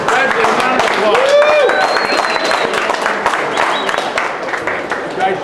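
A crowd at a 40th anniversary BMX event in Long Beach breaks into steady, loud applause and cheering, with a voice talking over the clapping throughout.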